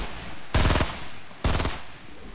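Two sharp bursts of automatic gunfire from the Fortnite Food Fight mode, each lasting about a quarter second, loud and close, separated by a brief pause over faint background game noise.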